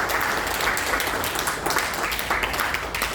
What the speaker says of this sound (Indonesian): Boleh berikan tepuk tangan Bapak Ibu